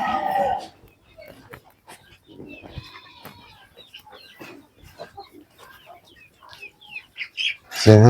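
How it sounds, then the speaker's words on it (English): Village chickens and guinea fowls on a permaculture farm, a scattered mix of clucks and bird calls near and far, with a voice speaking briefly at the start and end. "Oh, chicken. Yeah. Village. Oh, together with guinea fowls."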